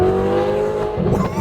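Novitec-tuned Liberty Walk Ferrari 488 twin-turbo V8 of about 800 horsepower revs loudly and close, a sustained rich engine drone that dips briefly and swells again.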